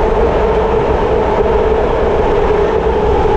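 A BART subway train in San Francisco rumbles steadily at speed, a loud continuous roar with a droning hum inside the car and no talking.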